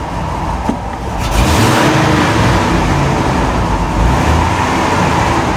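1991 Ford F-150 engine idling roughly, a loud continuous low rumble recorded close up with a slight unsteady waver and no voices.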